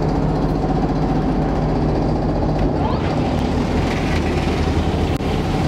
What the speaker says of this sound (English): Now I could talk about this pump all day, but instead we're gonna let it talk for itself.